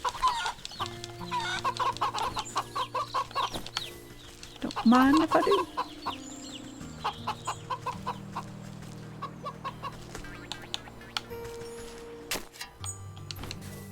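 Chickens cluck in short bursts amid layered game music and ambient effects in the video game Wytchwood, with a voice talking briefly over them.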